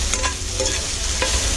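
Chicken stir-fries in a hot oiled pan, sizzling steadily up close while being stirred, with a few brief scraping strokes.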